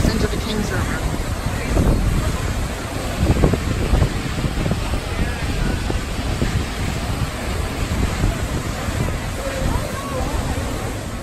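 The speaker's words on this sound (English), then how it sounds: "it is a beautiful waterfall" Roaring River waterfall in Kings Canyon National Park cascading down into a small pool, a steady broadband roar of falling water that stays loud and constant throughout, with some wind buffeting the microphone.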